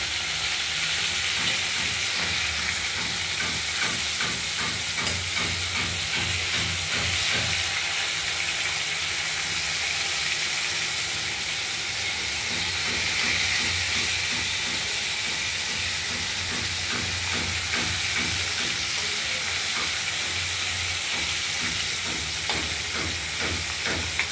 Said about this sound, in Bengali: মাছগুলোকে একটু ভালো করেই ভেজে নেবো।